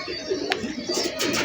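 Pigeon cooing inside a pigeon loft, low rounded coos rising and falling close by, with a couple of brief sharper rustles or flutters mixed in and no talking.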